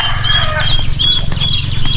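Chickens and chicks on a farm cheep and cluck nearby, thin high peeps repeating over a low steady murmur of hens, loud and continuous with no voices.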